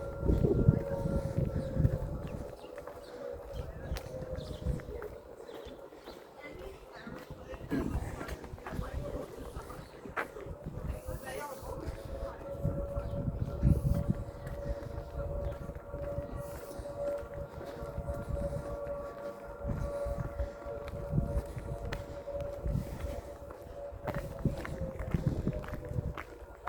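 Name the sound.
dockyard siren going off in Plymouth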